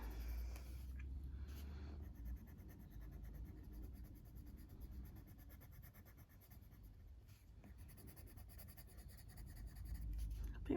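A coloured pencil scratches steadily across the paper of a colouring book, a soft, continuous scraping of quick strokes that is very quiet and close, with no one speaking.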